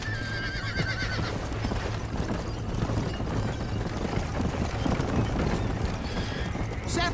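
A horse in Red Dead Redemption whinnies and its hooves clip-clop steadily beneath ongoing game dialogue and background noise, the steps continuing throughout.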